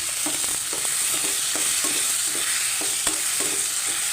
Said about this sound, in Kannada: ಚೆನ್ನಾಗಿ ಒಂದ್ಸಲ ಮಿಕ್ಸ್ ಮಾಡಿ ಎಣ್ಣೆಯಲ್ಲಿ ಸ್ವಲ್ಪ ಫ್ರೈ ಮಾಡಬೇಕು